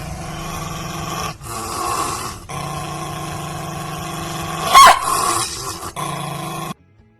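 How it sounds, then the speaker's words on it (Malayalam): A Pomeranian spitz growls aggressively while being groomed. The rumbling snarls are sustained and close, broken by brief pauses, and rise into a sharper outburst near the end. "ഒരു പൊമറേനിയനിൽപ്പെട്ട നായയാണ്"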